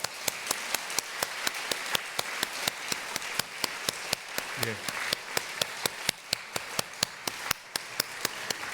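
Church congregation giving applause to welcome its elders onto the stage at a New Year's Eve service, a sustained crowd clapping with sharp, regular claps standing out near the microphone throughout.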